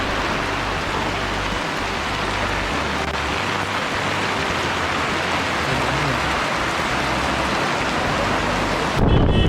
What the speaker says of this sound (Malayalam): ഇവിടെ വണ്ടി ഇരിക്കണേ പൊരിഞ്ഞ മഴ